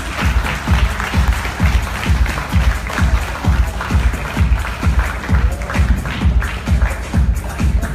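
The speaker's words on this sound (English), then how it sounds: "Let's give a round of applause for our Miss Earth International candidates" At the Miss Earth 2017 pageant's resorts wear competition, an audience gives a round of applause, heard as loud, rhythmic and closely spaced clapping that continues steadily throughout with no voices over it.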